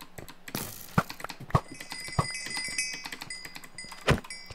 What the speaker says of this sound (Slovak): ak budete počuť veľmi ťukať klávesnicu, to je moja nová mechanická klávesnica